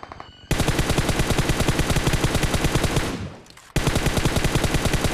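Rapid automatic gunfire from a BGMI battle-royale match, a fast loud burst of evenly spaced shots, a short fading pause, then another sustained burst, with no voices.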